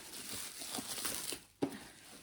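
Packaging from a secondhand Vinted parcel crinkles and rustles steadily at close range while it is opened, ending in one sharper crackle near the end.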